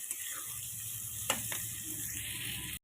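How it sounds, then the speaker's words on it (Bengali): Rice for home-made fried rice sizzles steadily in a pan, a continuous hiss with a couple of sharp scraping stirs partway through, nearby and moderately quiet. "দিয়েছি, একটু ভাজা ভাজা করে নিচ্ছি"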